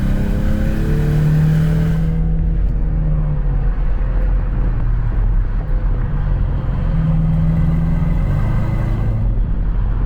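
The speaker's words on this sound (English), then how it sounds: "It's got that whoosh to it, which S550s do not." 2024 Ford Mustang EcoBoost with a turbocharged engine accelerating from the driver's seat, a loud steady engine drone rising and falling with a faint turbo whoosh layered over the cabin rumble.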